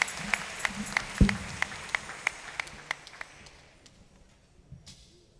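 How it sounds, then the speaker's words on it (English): Applause at a church service broadcast, heard as a thin, sparse run of distinct claps with a thud early on, gradually tapering off into near quiet. "give them another round of applause"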